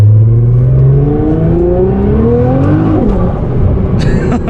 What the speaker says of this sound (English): I'm gonna have to accelerate into traffic here. And then this will be, I guess, the last pull